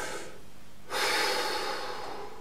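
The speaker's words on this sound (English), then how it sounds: "Breathe it all out." A singer exhales in a long, steady, breathy rush during a diaphragmatic breathing exercise, close to the microphone and alone.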